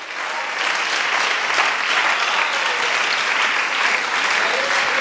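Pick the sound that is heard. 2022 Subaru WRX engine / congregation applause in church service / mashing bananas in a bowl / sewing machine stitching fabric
congregation applause in church service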